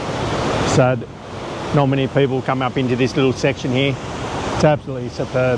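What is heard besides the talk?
waterfall at Krka National Park, Croatia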